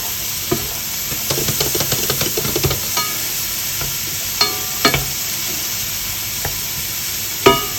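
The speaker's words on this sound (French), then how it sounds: "Je profite de ma poêle qui est encore assez chaude pour mettre l'ail et l'oignon dedans." Garlic and onion sizzle steadily in a hot frying pan, a continuous bright hiss broken by scattered sharp pops and clicks of a utensil stirring, with a louder clack near the end; no voices.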